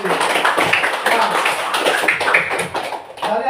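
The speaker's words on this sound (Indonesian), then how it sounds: "Kasih tepuk tangan dulu untuk kelompok ini." A school class applauds a student group after its presentation, with dense, continuous clapping from many hands filling the room and voices mixed in underneath.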